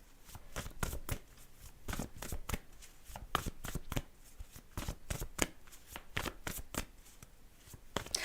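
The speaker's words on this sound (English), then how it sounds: "I'm going to just get my act together with shuffling these cards." Playing cards being shuffled up close, a quiet run of crisp flutters and snaps repeating in irregular bursts.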